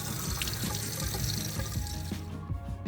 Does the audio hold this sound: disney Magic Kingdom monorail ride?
no